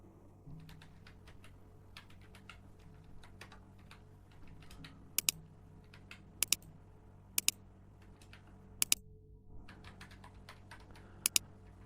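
Computer keyboard typing as customer details are entered into a seat reservation and ticket purchase form, steady quiet keystrokes with a few sharper isolated clicks, close and alone with no talk.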